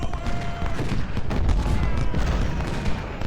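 Civil War musket and artillery gunfire in the Ultimate General strategy game, a rolling fusillade of crackling volleys and dull booms repeating densely, fairly loud, with no speech.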